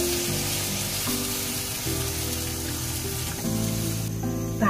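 Pork pieces sizzle in a wok over caramelized sugar with soy sauce, a steady dense frying hiss with bubbling and occasional stirring clatter, close and continuous with no talk.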